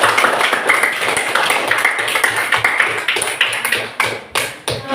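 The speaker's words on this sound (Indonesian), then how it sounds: "Beri aplaus pada kelompok 3" Students in a classroom applaud group 3, a dense burst of many hands clapping nearby that thins into scattered claps toward the end.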